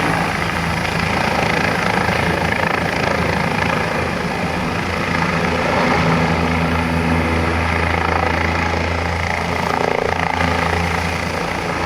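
A helicopter on display at the Bangladesh Air Force Museum: steady rotor thrum and engine whine, loud and continuous throughout, with a low droning hum underneath.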